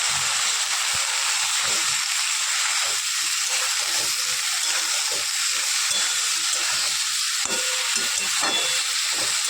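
Curry cooks in a pan with five-spice, turmeric and salt, giving off a continuous, even sizzling hiss that stays steady for the whole stretch, with no talk over it.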